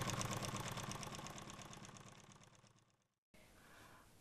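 A small motor on a Chinese-made embroidery machine runs with a steady, fast mechanical chatter, close and fairly loud, then cuts off abruptly into a brief silence before a quieter hum resumes.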